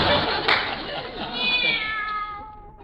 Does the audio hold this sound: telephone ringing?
no